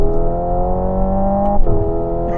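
Ferrari Luce electric car accelerating, its electric motors giving off a steady layered whir and hum of stacked tones, loud and close, with a brief dip in pitch partway through and no voices.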